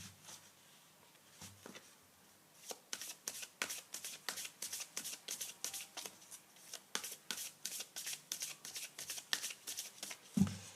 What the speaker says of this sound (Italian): Ci mettiamo le carte dell'Angelion, sempre di Sepirion.